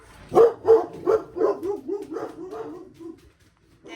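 A puppy barks and yips in a quick run of about eight short barks, loud and close at first, then tapering off in volume, with a final faint yip after a brief pause.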